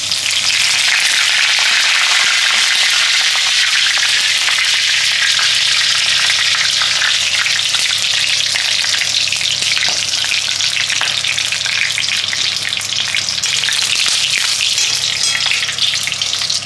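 Whole spices, bay leaf, clove, cardamom and cinnamon, hit hot oil in a pan with a loud, steady, close sizzle that crackles continuously without pause.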